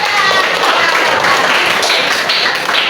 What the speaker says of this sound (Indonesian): tepuk tangan dulu teman